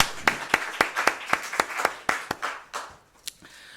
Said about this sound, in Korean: 우리 주님께 박수 올려드립니다